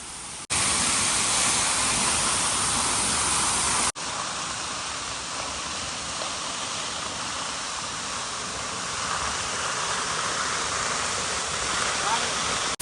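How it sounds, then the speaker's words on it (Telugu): Umlai Falls in Cherrapunji, Meghalaya, during rain, a loud, steady broadband roar of rushing water, continuous and close, with brief breaks at the start; talk may be buried under the roar. "ఈ వాటర్ ఫాల్ నేమ్ వచ్చి ఉమ్లై ఫాల్స్"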